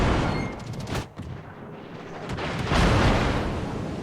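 Naval guns fire in the World of Warships video game, and shells strike the turrets of a large battleship. Booming salvos and heavy impacts roll out over several seconds, with a louder rumbling burst toward the end.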